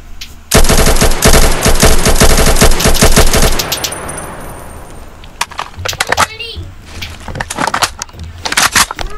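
Loud, rapid automatic gunfire in a sustained burst, followed by scattered single shots and clatter; game-style effects with no voices.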